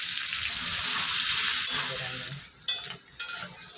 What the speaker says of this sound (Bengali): সিদ্ধ করে ছিলে নিয়েছি আলুগুলো, এখন ওগুলো ভেজে নেব তেলের মধ্যে।